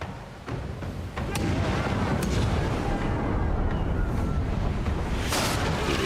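Ship cannons loaded with grapeshot firing in the naval combat of the fantasy video game Pillars of Eternity II: Deadfire, sharp booms followed by a dense, continuous roar of rushing noise and scattered impacts.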